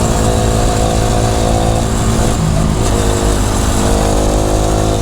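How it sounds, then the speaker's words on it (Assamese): A motorcycle on the road in Assam, ridden by its owner after repair, with its engine running steadily and loudly close by, mixed with heavy wind rush and no talking. "বহুত দিনৰ মূৰত এনেকৈ চলাই নিজৰ বাইকখন"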